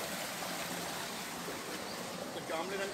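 Water from a privately owned farm tubewell pours out steadily in a continuous, close, hissing gush, a dense, even flow with no pauses or talk.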